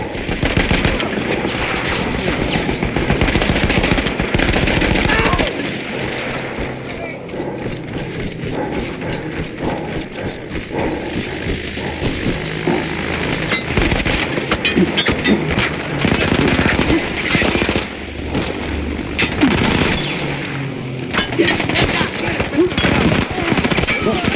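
Rapid bursts of machine gun fire from a mounted gun in the Battlefield 1 campaign, crewed by Austro-Hungarian troops; loud, dense gunfire runs almost continuously, mixed with other battle noise and no speech.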